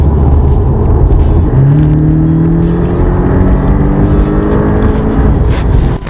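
Porsche engine, Cayenne or Boxster, roaring loud and close, rising in pitch steadily as it revs up over several seconds.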